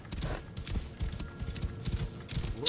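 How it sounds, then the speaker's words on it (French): Horse hooves clip-clop at a steady walking pace in Assassin's Creed Origins, a continuous rhythmic series of close thuds with faint background sound. "C'est trop bien un cheval putain."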